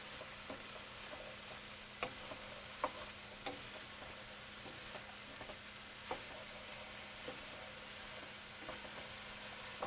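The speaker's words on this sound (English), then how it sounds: "Okay, now I'm going to add our zucchini. And again, just make sure it gets kind of coated" Zucchini sizzles steadily in hot oil in a pan for a minestrone soup base, a constant frying hiss with occasional sharp pops and ticks as the pieces are stirred and coated.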